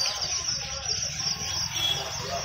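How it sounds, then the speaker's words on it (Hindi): Small yellow pet birds at a bird market keep up a dense, continuous high chirping chatter, steady throughout and mixed with a low background murmur of the crowded market. "येलो कलर का चिड़िया"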